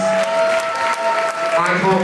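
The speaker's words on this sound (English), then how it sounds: "Give the icon a round of applause" A nightclub runway crowd applauds in a dense, steady wash of clapping, with a sustained tone and voices mixed underneath throughout.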